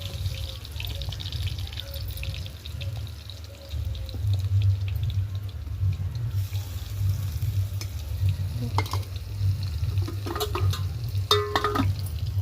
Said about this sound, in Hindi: अब मैं दाल में तड़का लगा देती हूँ।